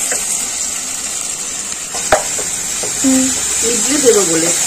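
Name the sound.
stirring shrimp and chopped onion frying in a pan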